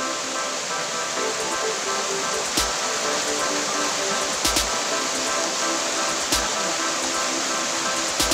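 Pambanal waterfall on the Pala–Thodupuzha road near Manathoor pours in a steady, loud broadband rush of falling water, continuous throughout with a few brief knocks.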